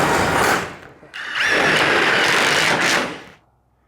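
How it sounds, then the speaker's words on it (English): A power drill fitted with a 1 3/8 reamer step bit bores a hole for a sliding door handle mechanism, whining loudly in two close bursts with a short dip between, then winding down. "so we got to drill a hole here"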